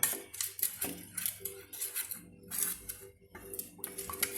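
Sandwich filling being stirred in a bowl with a spoon for a lunar sandwich, with repeated light clinks and scrapes of metal against the dish at an uneven rhythm, faint and close, without talk.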